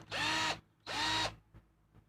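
A COOFIX cordless drill whirs in two short, clear bursts, each about half a second with a rising whine as the motor spins up, followed by a couple of faint clicks; nearby and alone, with no talking.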